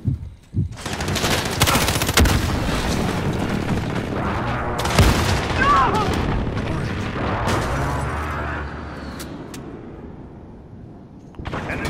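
Heavy, rolling blasts and rapid weapon fire from a Call of Duty match where an enemy precision airstrike hits, dense and loud throughout with booming impacts layered over chattering gunfire and no talk.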